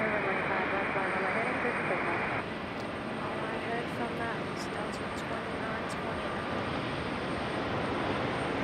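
A JetBlue airliner passes at Raleigh-Durham International Airport, producing a steady, broad engine roar that holds evenly throughout.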